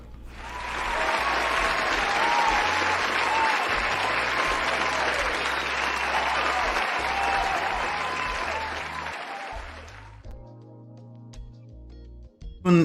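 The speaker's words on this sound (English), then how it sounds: "had to wake up the applause thing" A canned applause sound effect plays during a New Year livestream: dense, loud clapping and light crowd noise sustained for about ten seconds, then cutting off abruptly into near silence.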